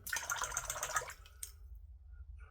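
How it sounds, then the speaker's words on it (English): A safety razor rinsed under running water, a short gush and trickle that stops partway through, leaving only faint dripping. "just rinse out the razor"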